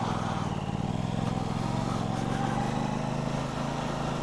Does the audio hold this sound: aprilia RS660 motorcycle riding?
yes